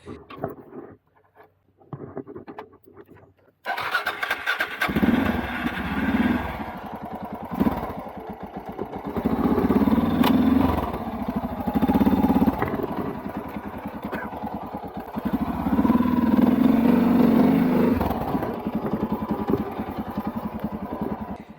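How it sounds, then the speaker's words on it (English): A Suzuki DR650 motorcycle with a locked rear wheel is restarted after a quiet start, its engine turning over and then running loud and rough for a long stretch, a steady clattering drone that surges and dips. "tried to restart the bike"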